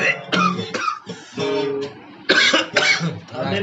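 Several harsh coughs come in bursts, close to the microphone, mixed with a voice speaking.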